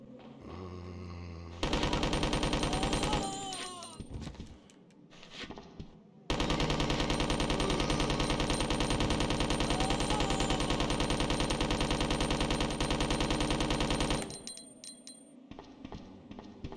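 Sustained rapid submachine gun fire in Resident Evil 2 (1998), a dense continuous burst lasting most of the stretch after a short opening volley, with game music and effects underneath.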